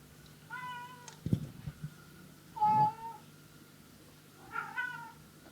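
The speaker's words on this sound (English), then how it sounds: "Oh, my cat is meowing." A house cat meows three times at spaced intervals, each a short tonal cry, moderately close over a quiet room with a faint steady hum.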